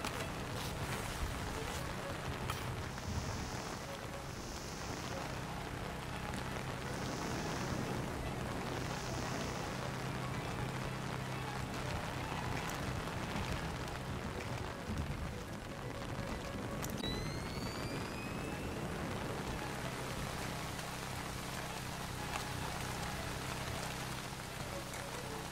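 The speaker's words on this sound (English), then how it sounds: "Man, it's really raining." Heavy rain in the stealth video game Splinter Cell Chaos Theory, set at a lighthouse, pours as a constant dense hiss that fills the whole scene, with brief electronic chirps and a sweeping tone rising over it partway through.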